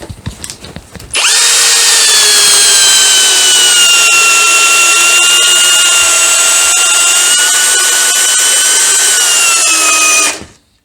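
Cordless Einhell TP-CD 18/120 impact driver, 120 Nm, running steadily for about nine seconds while driving screws; a loud, continuous high motor whine with a sharp start and stop, heard alone and close.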